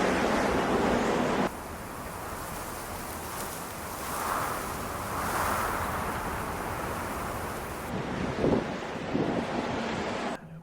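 A heeled-over sailboat at sea bound for Crete, with loud, steady rushing wind buffeting the microphone and waves surging against the hull, with no talk.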